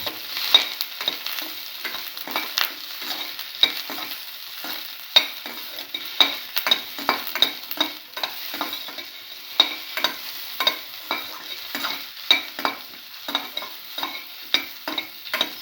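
A spoon stirs ingredients for a green apple vermicelli pasta dessert in a pan, producing a steady soft sizzle with repeated close scraping strokes in an even rhythm, no voices.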